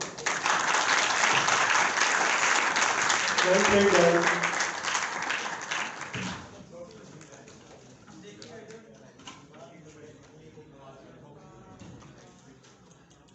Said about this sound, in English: Runner up team के लिए clapping की जाए